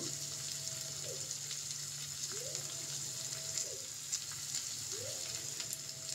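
Onion sautéing in a pan for a bottle gourd bhaji, a constant close frying sizzle over a low steady hum, with a few soft sweeping scrapes of stirring recurring at intervals.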